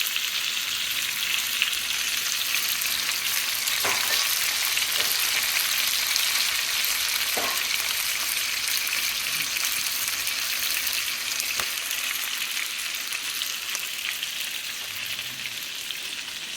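An ingredient melts and sizzles in a hot pan while hot chicken wings are being made: a steady, close frying hiss with a few faint clicks, no talking.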